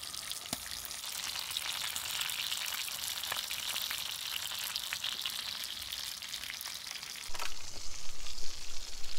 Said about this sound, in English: That's for cooking the pork chops.